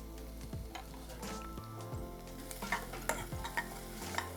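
Chopped onion and garlic sauté over a high flame, with a steady sizzle under the scrape and knock of a spoon against the pan and a few sharp clinks, close by, with no talk.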